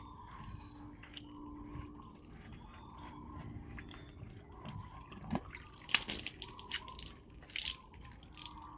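Water trickles and drips steadily through a dirty water filter, with a continuous low flow and a few louder splashes toward the end, no voices heard.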